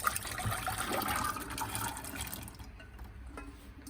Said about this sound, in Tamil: இதை வந்து ப்ரெஷர் குக்கரில் போட்டுடலாம்